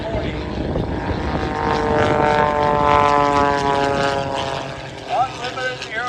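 A Red Bull Edge 540 aerobatic plane at an airshow drones loudly overhead, its propeller engine pitch rising and falling as it maneuvers close by, with a crowd announcer talking over it.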